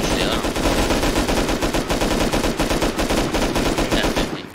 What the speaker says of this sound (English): No, keep shooting.